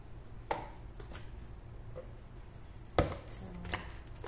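Ripe banana being mashed in a bowl for banana pancakes, with a few sharp, irregular knocks and taps of the utensil standing out over a quiet kitchen background, and no talking.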